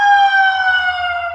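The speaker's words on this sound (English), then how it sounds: "It's definitely an ambulance" An ambulance siren wails in steady sustained tones, close and loud, sliding slowly downward in pitch as it goes by.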